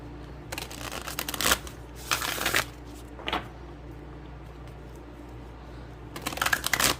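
Tarot cards being shuffled in close, quiet bursts: a longer riffle, a second burst, a brief flick, then another shuffle after a pause.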